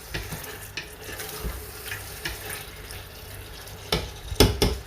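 Beef being sautéed in a pot for pulao, with a steady low sizzle and scattered stirring scrapes, then a louder burst of clattering stirring near the end; no voices.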